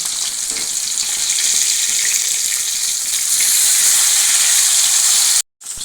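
Rohu fish pieces sizzle in hot oil in a pan, turned over to fry the second side: a steady, loud, dense crackle with no speech that cuts out briefly near the end, then resumes.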